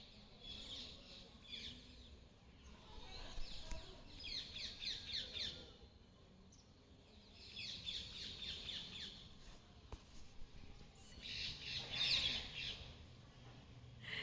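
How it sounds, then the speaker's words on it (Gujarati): Peacock calls after rain, loud squawking bursts repeating in several bouts at a distance over faint outdoor background, with no talk. "જો મોરનો અવાજ સાંભળો"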